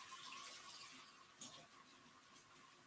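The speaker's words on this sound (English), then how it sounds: "We're going to rinse them with a little bit of water and vinegar." Fresh broccoli is rinsed in water and vinegar under a faint, steady stream of running tap water, with a few soft splashes.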